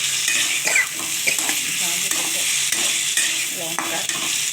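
Potatoes frying in a pan with tomato paste just added for a bottle gourd curry: a steady close sizzle under repeated scraping stirs of a spatula against the pan, with occasional metallic clinks.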